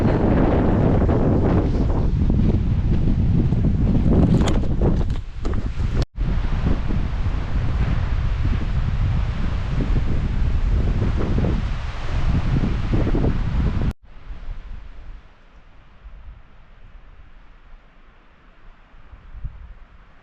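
Strong wind on the Pacific Crest Trail in Oregon roars and buffets the microphone inside a tent at night in a loud, continuous rush, then abruptly drops to a quieter, gusty hiss.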